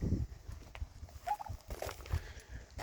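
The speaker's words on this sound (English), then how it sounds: "turkeys and chickens out here." Turkeys on a small farm kept alongside chickens, a short gobbling call rising over low rustling and scattered thumps of footsteps, fairly faint and outdoors.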